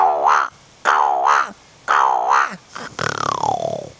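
A mimicry artist imitates a crow in a comic Hindi style, making three rising-falling throaty vocal calls followed by a longer descending cry, loud and close.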